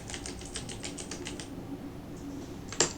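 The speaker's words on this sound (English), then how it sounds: "just type anything you like" Keys on a computer keyboard are tapped in a quick, even burst of about a dozen faint clicks, then a pause, a couple of light taps and one sharper keystroke.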